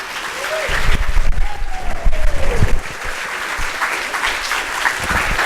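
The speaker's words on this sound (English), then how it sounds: "Y'all can just keep clapping while I clip in here." Audience applause at a leadership speaker event continues at a steady level. A voice talks over the clapping in the first seconds, and the crowd keeps clapping after she stops.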